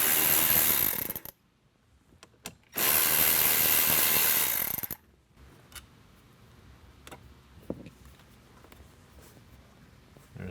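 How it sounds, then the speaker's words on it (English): A ratchet clicks in two loud bursts while removing 7mm bolts from the factory grille of a 2018-or-later Jeep Wrangler JL, close up, followed by quieter handling noises. "These are 7mm bolts to take the factory screws out."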